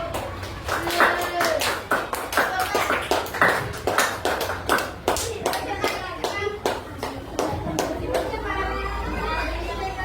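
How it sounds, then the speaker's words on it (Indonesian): A school class claps hands together in a rhythmic, repeated pattern of sharp claps while children chatter and call out around them, close and lively. "Tepuk tangan dulu."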